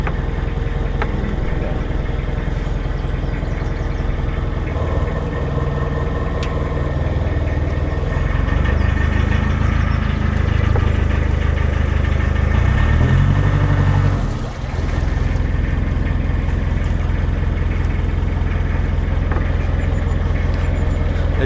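A narrowboat's diesel engine rumbles close and steady as the propeller is engaged, its deep throb swelling slightly midway before a brief dip, with a person talking over it.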